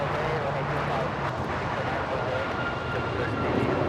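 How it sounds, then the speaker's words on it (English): An Alaska Airlines jet taking off at LAX produces a broad, steady engine roar that stays loud and even across the whole moment. Faint voices from a live tower feed sit under the roar. "I think we'll go for the Alaska takeoff"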